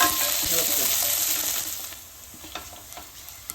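Sliced onion and curry leaves frying in oil for Kerala kappa curry, a bright close sizzle that fades after the first couple of seconds, with a few light stirring clicks and no talk.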